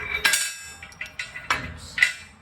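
A metal pin being fitted into a modified Landpride quick hitch rear fork, with a series of sharp metallic clinks and taps at irregular intervals, close and fairly loud, with no talk.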